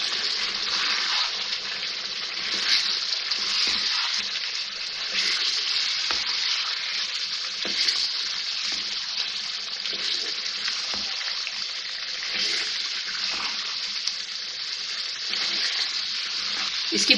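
Steady loud sizzling and frying of chicken and masala in a karahi, a continuous crackling hiss with occasional stirring clinks, no talking.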